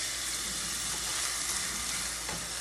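Kangkong fries in hot oil with a steady, close, dense sizzle throughout, and faint stirring scrapes come through now and then.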